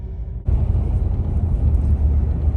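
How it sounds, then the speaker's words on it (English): Inside a moving 1985 Chevrolet Caprice Classic, a steady, loud low engine and road rumble fills the cabin after a brief quieter moment at the start, holding constant throughout. "we're driving on the way back home"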